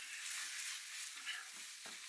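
King prawn curry sizzles steadily in a pan while being stirred and fried, a constant hiss broken by a few soft scraping stirs near the end.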